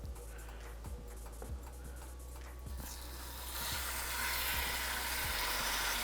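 Chicken thighs sear in a hot cast iron pan, a steady sizzle that swells louder partway through, with faint regular ticking clicks beneath and no talking.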